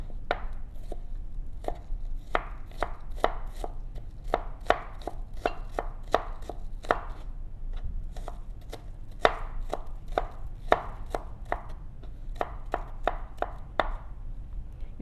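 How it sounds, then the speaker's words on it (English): Steady knife chopping of onion on a cutting board, crisp close strikes in uneven bursts throughout, with no talk, while preparing a spicy flower clam dish. "So again, we will chop it up into smaller pieces."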